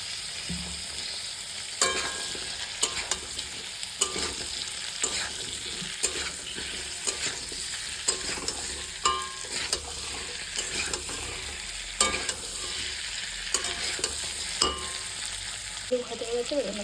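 Potatoes fry in a pan with a continuous sizzle, while a spatula scrapes and stirs in regular knocks roughly every second, close and fairly loud.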